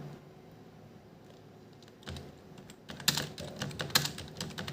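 Keys clatter on a computer keyboard as Hindi text is typed, starting with faint taps and building into quicker, louder clicking up close.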